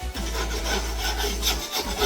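A 15-in-1 tool scrapes loose paint off a drywall wall, giving a steady, close, continuous rasping scrape with uneven strokes and no talk.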